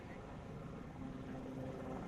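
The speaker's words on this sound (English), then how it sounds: "Helicopter arrives into wind, turns in back downwind" A rescue helicopter arrives at an airshow display, its steady rotor and engine drone heard from a distance, low and continuous, with a faint voice mixed in.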